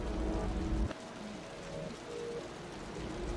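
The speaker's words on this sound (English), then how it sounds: "The rain's getting heavier." Heavy rain falls in the video game Wuthering Waves as a soft, steady hiss. A low tonal drone cuts off early, and faint chirps and ambient tones float above the rain.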